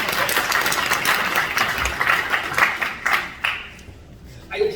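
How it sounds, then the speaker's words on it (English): An audience claps together in a room, a brisk burst of applause that thins out over a few seconds, with voices audible underneath. "You could clap for it."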